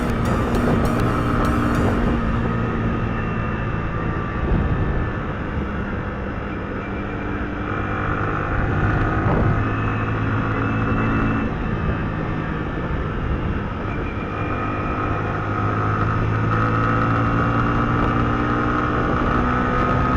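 Motorcycle engine droning steadily while riding the highway toward Sajek Valley, a loud continuous hum with strong low rumble and wind rush, no talking over it.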